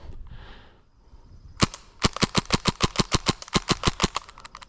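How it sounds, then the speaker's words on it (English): An airsoft submachine gun fires on semi-automatic as fast as possible, about twenty sharp, close snapping shots in a quick, slightly uneven burst after a brief quiet rustle. "Let's go ahead and shoot the rest on semi-automatic as fast as we can"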